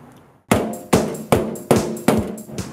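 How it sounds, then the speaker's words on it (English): A hammer strikes a Datsun Roadster car body panel in five sharp, evenly spaced metallic blows at close range, each ringing briefly, followed by a softer final tap. "if it doesn't fit, you get to hit it with a hammer"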